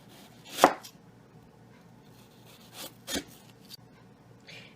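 A knife slicing apples into wedges on a board: a few sharp, quiet cuts, one near the start and a pair near the three-second mark, with faint handling noise between.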